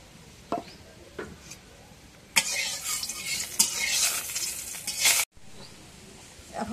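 Coconut and jaggery stir-fried in a little oil in a wok for a homemade pitha filling: a loud burst of sizzling and scraping lasting a few seconds, with quieter stirring clinks before and after.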